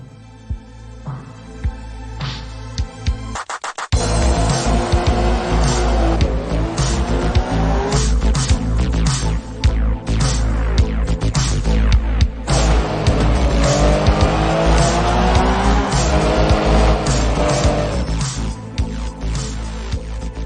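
A rally car in the racing game Art of Rally roars close and loud, engine revving up and down through gear changes with tire squeals and skids, over a quieter opening before the engine kicks in.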